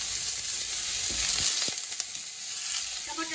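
Whole small tomatoes drop into onions already frying in a pan, producing a close steady sizzle with a few soft knocks and stirring scrapes, no talking.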